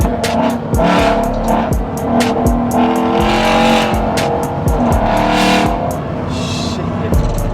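A 2025 Ford F-150 with a 5.0 Coyote V8, Corsa exhaust and longtube headers rumbles loudly and close, with a steady deep exhaust note and a series of sharp revs, heard without talking.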